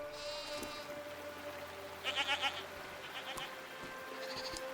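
Goat-like creatures in a PC video game let out a single wavering, quavering bleat midway through, set against a soft, steady outdoor ambience with a few faint chirps.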